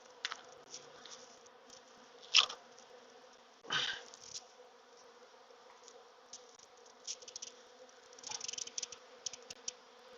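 Russian honey bees buzz close by during an autumn hive inspection, a steady drone broken by louder swoops as individual bees fly past, alongside scattered clicks and rustles of handling.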